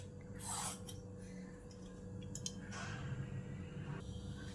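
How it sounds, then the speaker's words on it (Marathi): Skin is peeled off a bottle gourd in short rasping, scraping strokes, close and fairly quiet, repeating several times with brief pauses in between. "याची आपण आता ही साल साल काढून घेऊया दुधीची"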